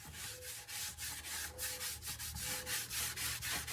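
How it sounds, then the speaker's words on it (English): Scotch-Brite pad and denatured alcohol scrubbing old finish off a guitar body, heard as steady back-and-forth rubbing strokes, about two per second, close and moderately loud with no talk. "Take the rest of this finish off with denatured alcohol."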